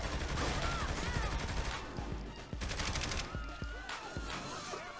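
Gunfire in a Saints Row: The Third gunfight, with bursts of rapid shots and several heavier single blasts rising from a continuous noisy din, close and loud throughout.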